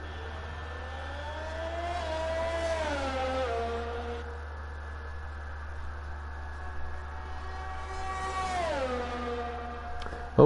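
F1 racing car engine in a video game on a flying lap at Austria, a high whining engine rising and falling through gear shifts and revs, moderately loud over a steady low hum.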